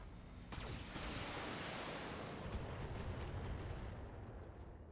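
Mech weapons firing in the BattleTech video game: a sudden heavy blast launches into a sustained roaring, crackling barrage that fills the clip evenly before easing slightly at the end.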